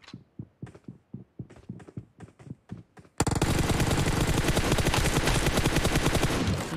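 Gunfire in the battle royale game BGMI: about a dozen sharp single shots crack out one by one, then give way to a loud, unbroken automatic burst that runs to the end.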